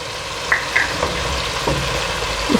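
A Maggi seasoning cube sizzles in hot oil in a pan while matar pulao is being cooked, giving a steady close frying hiss with a few sharp crackles and pops and no talking.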